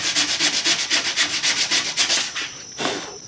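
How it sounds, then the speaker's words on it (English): Adhesive-backed sandpaper stuck to the fingers rubs by hand over a surface in quick, even back-and-forth strokes, about a dozen rhythmic scratchy passes up close, ending with a couple of slower rubs. "Adhesive back sandpaper. Put it right on your fingers."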